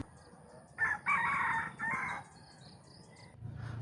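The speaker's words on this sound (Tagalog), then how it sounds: "Padunggon ta mo sa tingog sa manok ha" A rooster crows clearly at close range, one full call in several bursts, with faint background noise and a low rumble near the end.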